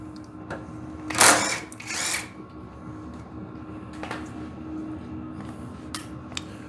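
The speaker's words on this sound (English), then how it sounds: "So let's see if we can get these bolts off and see if we can reach the throttle from there." A power drill removes bolts from a snowblower in a workshop, with two short whirring bursts close by, then fainter brief tool noises and clicks.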